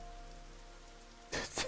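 Heavy rain in the video game Rain Code, starting after a quiet hum as a sudden loud, dense wash of downpour that surges twice near the end.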